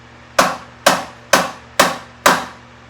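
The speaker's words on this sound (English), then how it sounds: "I like just a little kiss with the hammer" Five evenly spaced taps of a soft mallet on a motorcycle's alternator rotor and stator, 1972 Norton Commando Combat, each a short dull knock with a brief ring, sounding close in a quiet room.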